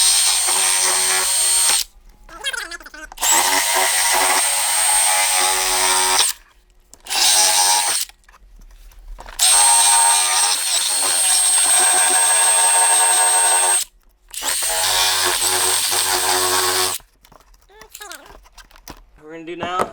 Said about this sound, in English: Dremel this part down